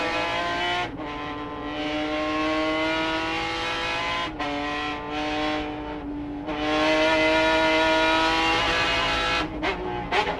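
Race cars in a Speed World Challenge GT race at Road Atlanta, 2003, roar continuously near and loud, with engine pitch rising and dropping through gear changes and brief lifts as they work through corners.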